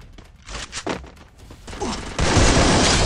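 Gunfire from a Garena Free Fire match landing a headshot, sharp bursts of shots followed by a dense, loud sustained volley near the end, with a voice talking faintly at the start.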